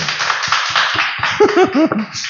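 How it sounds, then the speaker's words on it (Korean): A church congregation at a Sunday worship service claps in thanks, with scattered, uneven hand claps, then a brief burst of voices or cheering rising over the claps near the end. "우리 감사의 뜻으로 박수 한번 할까요?"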